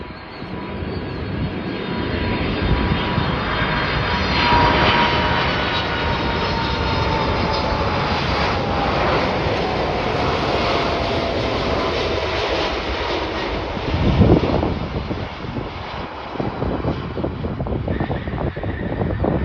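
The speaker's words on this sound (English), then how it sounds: "we got a Boeing 747-45EF Apex Logistics operated by Atlas Air arriving in from Anchorage" A Boeing 747-400 freighter operated by Atlas Air roars in on arrival at Chicago O'Hare, a loud, broad jet rumble with a whining tone that holds steady, peaking near the middle, with wind buffeting the microphone.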